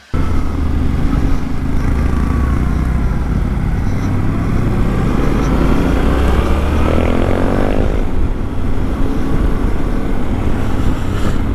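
Yamaha Ténéré motorcycle pulling away onto a dirt trail at Richloam in Florida, its engine droning loud and steady throughout with rumbling wind buffeting the microphone.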